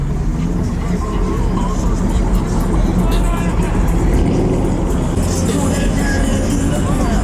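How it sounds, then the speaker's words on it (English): A modified car rolls in at a busy car meet, its engine rumbling steadily at close range beneath a constant hubbub of crowd chatter and other idling vehicles. "We got the boy JLE pulling in"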